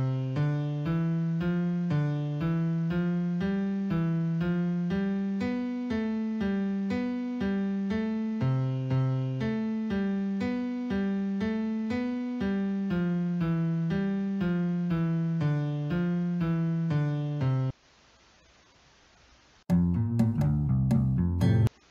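Synthesized notes from the JFugue player step through a steady run of evenly spaced tones for about seventeen seconds, then a short pause and a brief louder chordal burst at the end.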